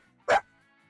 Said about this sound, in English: Random dog outside